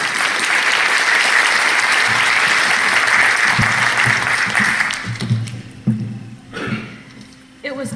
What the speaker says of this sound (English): So give a round of applause to Mary Cameron.